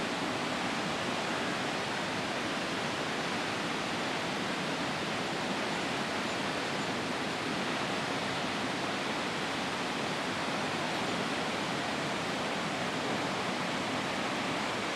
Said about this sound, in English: they say that it's one of the higher waterfalls in the world